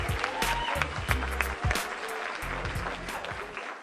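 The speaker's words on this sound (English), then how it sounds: "Can we just have another round of applause for Scott, please?" Applause from an audience rolls on steadily, a dense patter of claps with low murmuring underneath, heard from a short distance.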